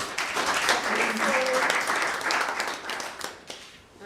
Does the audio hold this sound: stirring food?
no